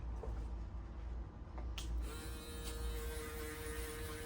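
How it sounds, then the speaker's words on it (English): Electric shaver running steadily during a haircut with a taper guideline, its constant motor hum and buzz held close up, with a brief click near the middle as the cutting tone settles in, no talking. "if you go in circles with your shaver like this, because it takes out more of the hair"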